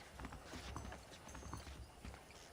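Hooves of horses in the Red Dead Redemption video game clop in a steady, close walking rhythm, fairly soft and continuous, with no clear voices.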